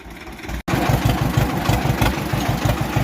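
A tractor engine idles on a farm field with a steady rhythmic low chugging, loud and close, after a brief cut near the start.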